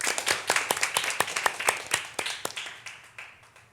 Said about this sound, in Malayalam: love bomb clap go